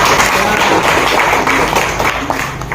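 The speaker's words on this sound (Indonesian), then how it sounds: "Tepuk tangan, Nak." Students clap together in a classroom, a dense steady patter of many hands that holds at an even level throughout, with a few voices faintly mixed in.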